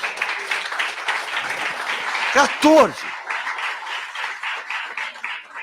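A congregation at a Sunday evening family church service applauds for Jesus, with a lively wash of clapping under a preacher's amplified voice speaking briefly.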